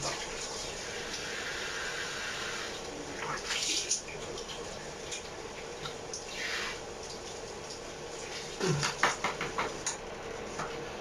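Tap water runs and splashes during wudu ablution, a steady stream with bursts of heavier splashing as hands and face are washed, moderately close.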